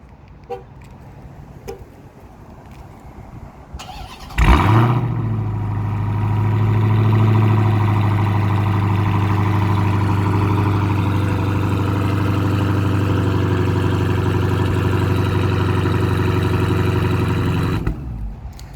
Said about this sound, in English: I'll start it up so you can hear the exhaust on this thing.